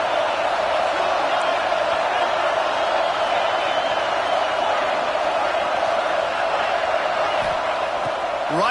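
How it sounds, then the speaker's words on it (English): Home crowd at a football game roaring steadily, a dense, loud wall of cheering throughout with a commentator's voice on top. "how nice is it to have the home crowd going absolutely bananas?"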